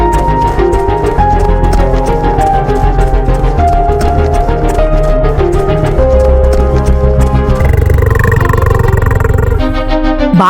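A cartoon tiger roars in a forest chase, a rough growling burst rising near the end over continuous loud background music.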